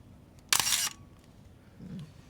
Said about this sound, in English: I need to adjust the shutter speed of my camera